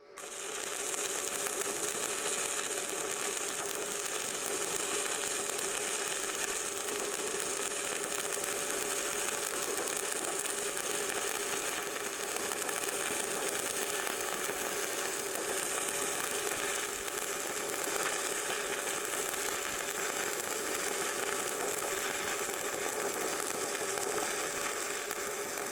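Arc welding on thick steel plate with a Z weave motion: a steady, dense crackling sizzle runs continuously and evenly at close range, alone without talk.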